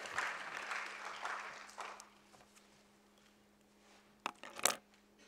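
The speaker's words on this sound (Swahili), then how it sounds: "Tumpigie makofi Rais kwa mara nyingine." Faint audience applause in a hall at the launch of a logistics and transport professionals' association, welcoming the President. It dies away after about two seconds, leaving a low hum and a few soft knocks.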